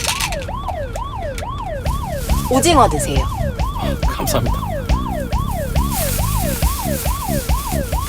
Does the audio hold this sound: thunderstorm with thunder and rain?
no